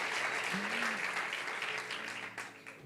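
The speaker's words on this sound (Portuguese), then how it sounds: "Será que a gente consegue dar uma salva de palmas para o Alto Monte?" A church congregation in a worship service claps together in sustained applause, a dense wash of hand claps that fades slightly toward the end, with a faint voice underneath.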